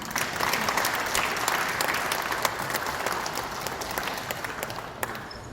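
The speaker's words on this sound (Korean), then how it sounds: "우리 조정훈 총장님 박수 한번 주십시오" Sustained audience applause at a Korean Kukkiwon ceremony, a dense steady wash of many hands clapping at even loudness throughout, with no voices standing out.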